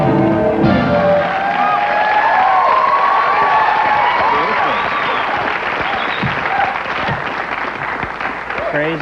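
Studio audience at a late-night talk show applauding and cheering, a dense, loud, sustained wash of clapping and crowd noise with voices mixed in, easing slightly toward the end.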